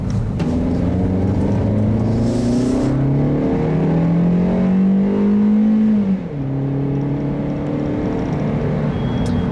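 A 2013 Chevrolet Spark with an 84-horsepower engine accelerates hard, its loud, close engine note climbing steadily through a gear, dropping briefly at a shift, then rising again.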